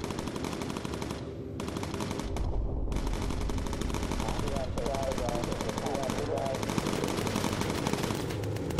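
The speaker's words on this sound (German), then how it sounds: "da schießt er mir in den Flügel." Sustained machine gun fire rattles from a bomber's turrets in the video game Bomber Crew, with dense bursts running almost without pause at a loud, steady level and a voice talking beneath.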